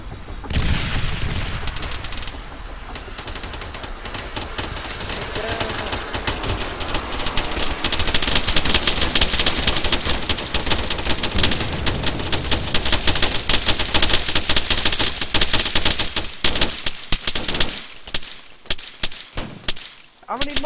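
Gunfire in the video game ArmA III, with rapid automatic bursts and single shots crackling continuously over roughly twenty seconds, dense and loud, with some voices under the shooting.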